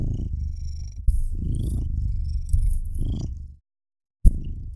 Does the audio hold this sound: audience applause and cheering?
no